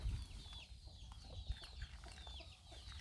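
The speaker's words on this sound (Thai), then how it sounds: "ไก่ก็กินนะคะ" Chickens cluck softly while eating, faint scattered calls over low rumbling outdoor background noise, with no talking.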